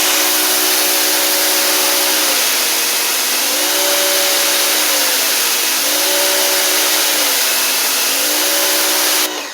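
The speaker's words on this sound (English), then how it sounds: "Hear the engine dial up a little bit." A YerYork electric pressure washer motor whines loud and close, its tone repeatedly swelling upward in pitch as the motor speeds up, over a constant hissing wash of noise with no talking.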